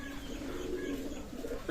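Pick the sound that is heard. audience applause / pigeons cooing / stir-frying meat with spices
pigeons cooing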